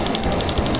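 A stove burner is switched on with a quick run of evenly spaced mechanical clicks, close and fairly loud, lasting under a second.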